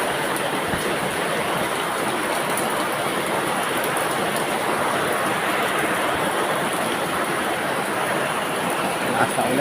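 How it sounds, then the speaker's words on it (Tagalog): Heavy rain pours down steadily during a flood, a loud, dense, unbroken hiss of falling water that lasts throughout with no pauses. "Lakas na ulan guys."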